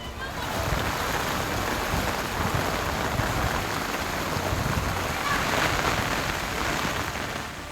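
Heavy rain pours down in a dense, constant roar, loud and unbroken throughout.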